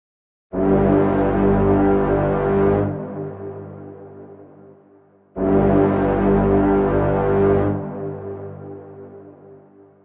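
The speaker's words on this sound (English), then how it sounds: "it is a filtered delay, and it's almost like another instrument because it's playing back different parts of the note" Two long sustained synth tones swell in one after another, each rich and buzzy, then tail off into softer, filtered repeating echoes.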